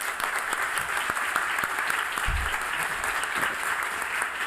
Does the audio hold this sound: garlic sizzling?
no